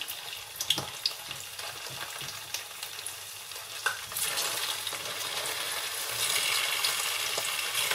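Taro pieces fry lightly in hot olive oil with a loud, close, steady sizzle. A spatula stirs and scrapes at intervals, and the hiss swells louder about halfway through.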